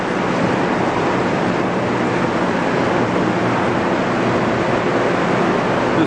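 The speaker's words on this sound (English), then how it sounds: "the sewer water that comes this way" Sewer gray water flowing through a wastewater treatment plant in Port-Cartier, a dense, steady rushing roar of moving water that stays constant and close for the whole stretch with no breaks.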